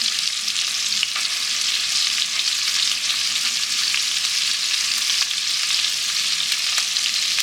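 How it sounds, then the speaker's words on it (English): Onions and meatballs sauté together in a pan with a steady, close crackling sizzle and faint stirring, and it keeps an even level throughout. "Just let them saute in there with the meatballs for a little bit."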